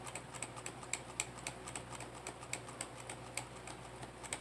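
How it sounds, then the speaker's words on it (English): The delete key on a computer keyboard is tapped over and over in quick, fairly regular clicks, close and distinct, with no voices. "I'm going to start clicking on delete key."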